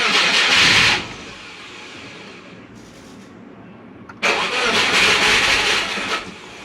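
A Subaru Forester with an idle problem cranks and fires, settles into a rough idle, then surges louder for a couple of seconds before dropping back.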